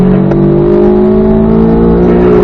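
A Corvette Z06 engine on the Spring Mountain race track drones loud and close under steady throttle, its tone rising gradually as the car accelerates, with no voices over it.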